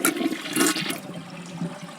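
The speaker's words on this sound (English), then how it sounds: "I'll give it a flush, a half flush." A newly fitted toilet tank is tested with a half flush, giving a close, rushing gush of water that swirls and drains steadily with no voices.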